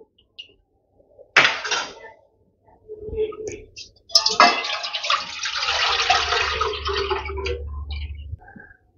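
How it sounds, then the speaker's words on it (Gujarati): Kadhi batter mixture is poured into a kadai on a gas stove: a clatter of utensils, then a sustained, close wet rush of liquid streaming into the pan over a low hum. "તૈયાર કરેલું મિશ્રણ આપણે ગેસ પર કડાઈમાં ઉમેરી દઈશું"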